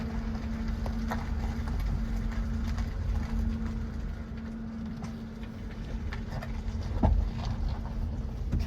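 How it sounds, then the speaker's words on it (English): Generators running in a valley once settled in 1850, a steady low hum with a constant tone, continuous and moderately distant under faint outdoor ambience, with a brief louder knock near the end. "that's the sound of the generators."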